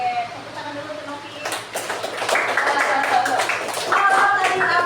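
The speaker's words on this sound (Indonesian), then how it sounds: "tepuk tangan dulu untuk Novi" Students in a classroom clap for a classmate, a loose burst of many hands that starts softly, swells and stays lively, with teacher's voice and chatter mixed in underneath.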